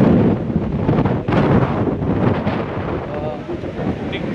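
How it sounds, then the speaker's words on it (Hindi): Strong storm wind gusts hard and continuously across an outdoor spot near Barsana at Holi time, roaring and buffeting the microphone with a loud, rough rush that eases slightly toward the end. "अभी बहुत ज़्यादा तेज़ है हवा"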